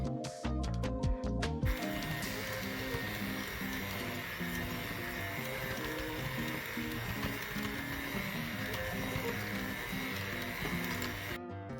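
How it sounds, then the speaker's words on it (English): An electric hand mixer whirs steadily while beating cookie cake batter in a bowl, with a continuous motor drone and rattling beaters after a few short bursts at the start, close up and without voices. "Beat again with the hand mixer for about 1 minute until it is creamy and smooth."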